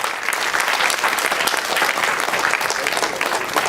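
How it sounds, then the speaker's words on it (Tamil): Loud, dense applause from an audience honoring a poet at a CD launch event in Singapore, steady and continuous throughout. "கவிஞர் அமரதாசன் அவர்களுக்கு பலத்த கைத்தட்டல் வழங்குமாறு அன்போடு கேட்டுக்கொள்கின்றோம்."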